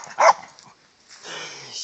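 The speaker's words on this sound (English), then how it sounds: "Disregard her barking if you can." A dog barks once, sharp and close, then falls quiet. A softer whimpering or whining sound rises near the end.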